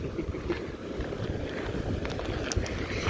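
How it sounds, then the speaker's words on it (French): Steady wind buffets the microphone on a beach in Senegal, a continuous broadband rush with gusts that swell and fade, loud and close throughout. "Il y a du vent."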